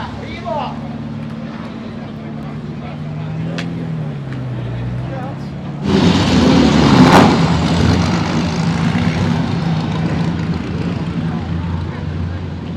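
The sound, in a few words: classic Nash Healey car driving by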